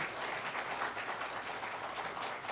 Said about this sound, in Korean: 우리 박수로 좀 환영하겠습니다.